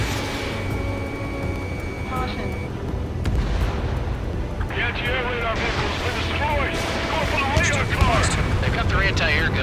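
Anti-air gunfire and explosions in the Ace Combat 7 story mode, a loud continuous barrage of booms and rattling bursts over rushing jet and wind noise, with voices speaking over the chaos.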